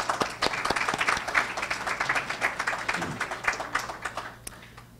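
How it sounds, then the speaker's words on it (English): An audience at a technical college live-streamed signing event applauds students, with many hands clapping loudly and close in a busy, uneven patter, sharp individual claps standing out before it thins toward the end. "Give those students a round of applause."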